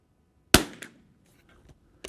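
Tikka T1X rifle shooting Lapua Biathlon Extreme rounds in high wind: one sharp loud report with a short decaying echo, then a second shot starting near the end.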